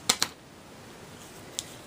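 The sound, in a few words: scissors cutting burlap ribbon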